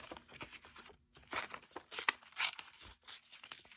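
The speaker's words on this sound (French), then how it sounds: "Déchirer du papier." Paper is torn in several short, crisp rips with brief pauses between them, close and quiet, no one speaking.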